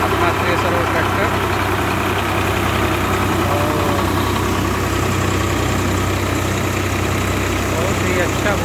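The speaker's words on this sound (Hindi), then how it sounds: "ये देखिए हमने लगा दिया अपना थ्रेसर और ट्रैक्टर" A Swraj 744 FE tractor drives a wheat thresher in a steady, loud, continuous engine drone with machinery rumble and vibration, running unbroken throughout and close to the recorder.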